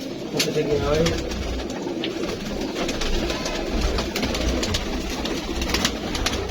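Pigeons coo softly and repeatedly in a Karachi loft, and sharp fluttering clatters cut in now and then over a steady background murmur, with someone talking nearby.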